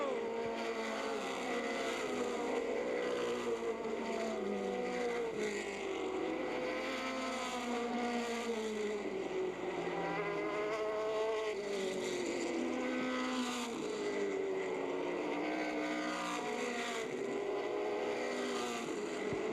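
Race cars lapping on the final circuit of the Milwaukee 100, a steady continuous engine drone with slowly rising and falling pitch sweeps as cars pass, fairly faint and distant throughout.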